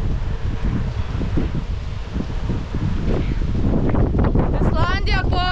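Strong wind in Iceland buffets the microphone with loud, continuous roaring gusts close up, while a voice speaks over it toward the end.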